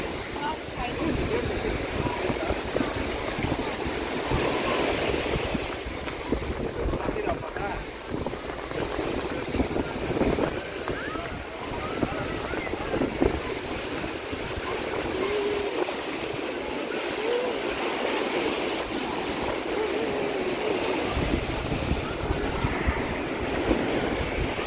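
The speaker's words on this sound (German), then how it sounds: "Heute ist auch ein bisschen Wellengang, wie man sieht." Waves wash steadily at Cala Millor beach in Mallorca, a continuous surf roar mixed with wind buffeting the microphone, while people talk nearby.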